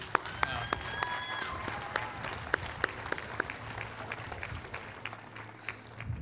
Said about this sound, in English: I think that deserves a big round of applause